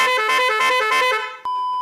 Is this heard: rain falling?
no